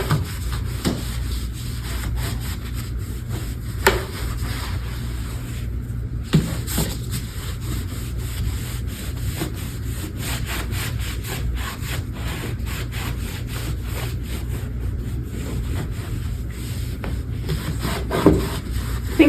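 A cloth scrubs degreaser over old wooden kitchen cabinets, steady close rubbing strokes with a few sharper knocks, quiet and without talk.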